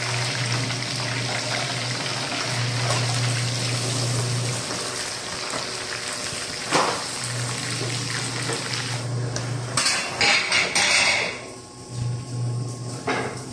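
Continuous sizzling and crackling of potatoes frying in hot oil for beef caldereta, fairly close, with a steady hum underneath and occasional clatter near the end.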